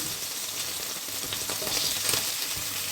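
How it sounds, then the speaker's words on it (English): Pork tenderloin sizzles in a frying pan with a steady, bright crackle of hot fat, and the meat is shifted about with faint stirring sounds. "So what we have to do now is prepare the sauce in this pan, same pan. Okay, so let's put the meat there."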